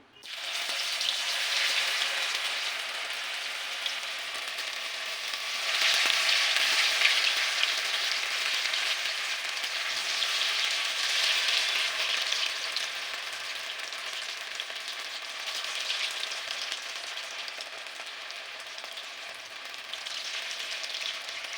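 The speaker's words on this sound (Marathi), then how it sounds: "तेल पण छान असं गरम झालेलं आहे तर आता मी त्याच्यामध्ये ना वडी टाकून देणार आहे" Alu vadi pieces frying in hot oil in a kadhai give a steady crackling sizzle like rain on a surface, close and even, swelling slightly in places, with no talking.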